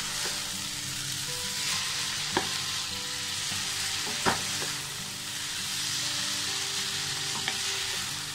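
Spaghetti sauce sizzles and fries in a pan over a high flame while being stirred, a steady loud hiss broken by a few sharp clinks of the spoon against the pan.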